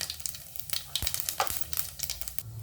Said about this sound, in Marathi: एक चमचा मोहरी मोहरी तडतडल्यानंतरच आपण पुढचे पदार्थ टाकणार